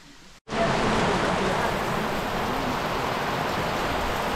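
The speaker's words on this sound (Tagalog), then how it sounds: "Inabot na kami mga kabayan ng ulan." After a brief quiet moment, a heavy downpour starts abruptly and continues as a loud, steady hiss of rain close by, outdoors on soft ground near goats.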